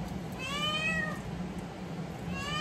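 A cat meows twice from nearby, one long drawn-out call followed after a pause by a second starting call, over steady indoor background noise.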